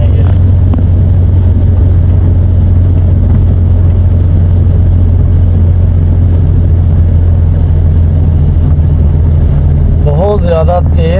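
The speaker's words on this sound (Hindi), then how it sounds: "गाड़ी को देखें कितना कितना पानी है।" A car drives through a road flooded after heavy rain, its engine and rushing water forming a loud, constant rumble throughout, with someone talking over it.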